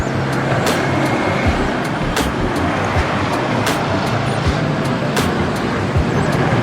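Vehicles pass along a road near a house in the late afternoon, a loud continuous roar of traffic with engine rumble and sharp clicks and rattles, close and steady, no talking.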